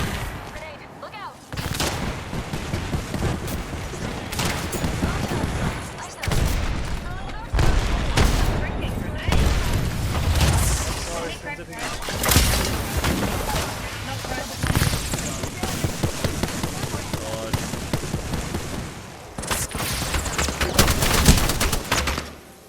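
Video game gunfire and explosions in Apex Legends ranked play, loud and dense bursts of shots and blasts repeating throughout, with players talking over the action.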